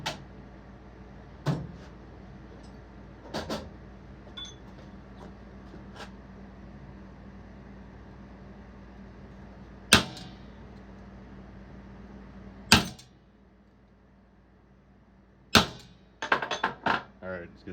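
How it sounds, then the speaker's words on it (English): Center punch struck into a metal exhaust pipe part for an Echo 2511T, a few sharp isolated taps spread apart, then a quick cluster of hits near the end over a quiet workshop hum. "But first we'll center punch these holes."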